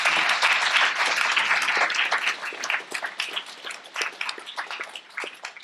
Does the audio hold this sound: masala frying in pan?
no